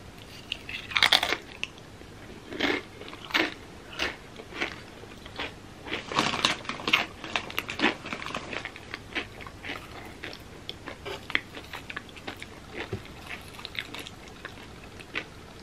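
Crunchy corn chips, a Trader Joe's take on Takis, being bitten and chewed with dip: close, loud, irregular crunches in bursts with chewing between, no talking.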